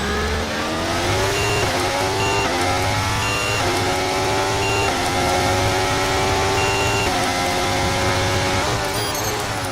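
A Formula 1 race car engine roars loud and close at the Mexican Grand Prix in the F1 23 video game, with the whine rising and dropping through several gear changes and downshifts under braking.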